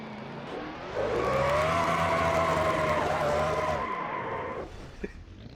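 A race car in a racing video game skids with squealing tires and a roaring engine as it slides toward the wall, holding loud for about three seconds before fading, with a small thud near the end.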